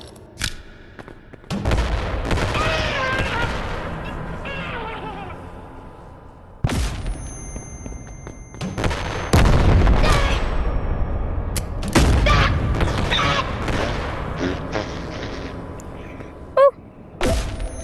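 Explosions in the virtual reality game Animal Company, a run of loud booming blasts with long rumbling tails, several hitting in close succession, with players talking between them.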